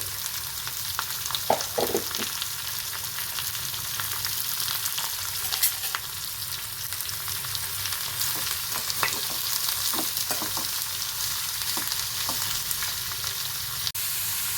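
Onions and curry leaves fry in a pan for a home-made onion curry, a steady close sizzle with occasional crackles and stirring clicks throughout, no voices.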